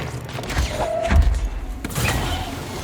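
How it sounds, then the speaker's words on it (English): Explosions in the video game Control sound as several dull, heavy thuds and booms in quick succession, moderately loud over a low game background, with no talking. "why does everything explode so much?"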